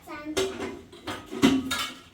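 A spoon clinks against dishes in a home kitchen, giving about four crisp, close metallic taps at an uneven rhythm, with faint voices in the background.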